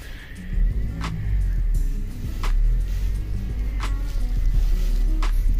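A 2009 Toyota Yaris with a freshly bled hydraulic clutch is backed up in reverse gear, its engine droning low and steady. Faint clicks come at intervals over the hum, and no one speaks.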